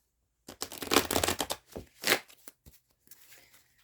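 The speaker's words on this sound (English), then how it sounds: "Let me give the deck another quick shuffle." A deck of cards is shuffled up close: a quick riffling flutter, a couple of short taps and a final soft shuffle, then quiet.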